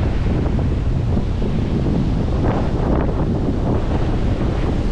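Strong wind roars steadily across the microphone, a loud, continuous rumble with gusty surges throughout.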